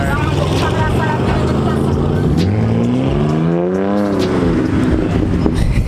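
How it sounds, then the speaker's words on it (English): A Mercedes-AMG leaving a car meet makes a loud, close engine roar that rises and falls as it revs and pulls away, with people talking over it. "we got the freaking AMG heading out already"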